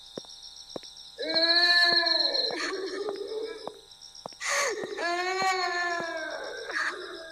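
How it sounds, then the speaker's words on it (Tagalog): A voice cries in long, wavering, high sobbing wails, two drawn-out bouts with short gaps, over a faint background hum. "Parang may babaeng umiiyak."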